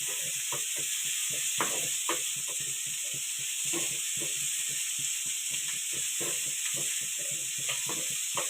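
Prawns fry in a pan with a constant sizzling hiss and dense crackling pops throughout, heard close with no talk.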